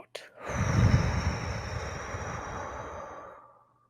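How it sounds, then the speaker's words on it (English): A single slow, breathy exhale during a four-count breathing exercise, soft and close, rising quickly then tapering gently to silence over a few seconds. "an exhale for 4 counts"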